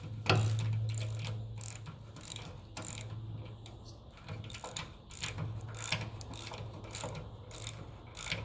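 A 3/8 drive ratchet clicks steadily while tightening bolts on a 1954 Ferguson 20 TEF diesel tractor, with close, rhythmic runs of pawl ticks, a low hum and small metallic knocks.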